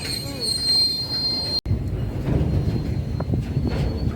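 A train rolls past close by, a loud rumbling drone with metallic screeching wheels and rhythmic clatter of cars.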